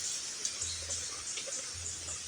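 Water at a spot where water buffaloes are brought to drink gives a steady, faint splashing and trickling wash, with a low rumble now and then beneath it and nobody talking.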